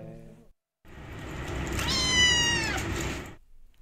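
A kitten raised by a foster volunteer in Ojiya cries in a long, loud, rising and falling meow, close and alone, after a brief opening chirp and a short silence, at an animal center.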